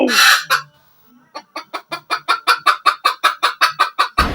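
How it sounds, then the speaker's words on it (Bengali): A loud squawk, then a hen clucks in a fast, steady run of a dozen or more evenly spaced clucks, close by. "এই যে মাবদর সাহেব মুরগি পাওয়া গেছে"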